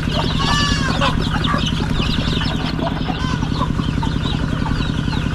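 Chickens and chicks cluck and chirp steadily on a Filipino farm, close and loud, with a constant low engine hum running underneath.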